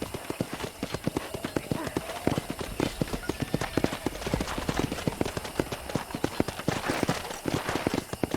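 Steady clip-clop of horse hooves at a walking rhythm in the video game Red Dead Redemption, close and continuous, over a faint background hum.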